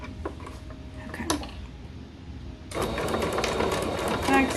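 A sewing machine back-stitching the hem of a pair of girls' leggings, a steady whirring run that starts loud partway through after quieter handling sounds, with someone talking over it.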